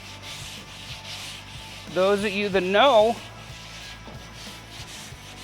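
Sanding the clear coat on a black truck, producing a steady abrasive rubbing that rises loudly for about a second in the middle, while a person talks over it.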